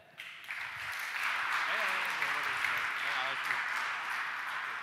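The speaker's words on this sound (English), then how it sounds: "A big round of applause for Krzysztof Miedrala" An audience at a startup pitch event applauding a startup CEO as he is introduced, applause swelling after a brief pause and holding steady, with a voice or cheer briefly audible beneath it.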